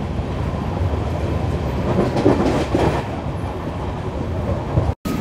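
The Kakinada Port–Bhavnagar superfast express rumbles along a single electric line, a steady roar of wheels and carriage noise heard from inside, with a faint clatter and a sudden brief dropout just before the end.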